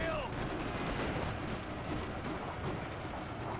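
In the Fall of the Samurai strategy game, artillery and gunfire rumble in a dense, continuous battle din, with scattered sharper shots rising above the steady roar.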